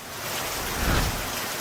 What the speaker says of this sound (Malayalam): മഴയൊക്കെ ഉണ്ട്